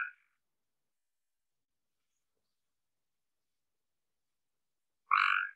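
Two short trilled calls of a Cope's gray tree frog, one clipped at the start and one about five seconds later, each a quick buzzy brrr standing alone against silence.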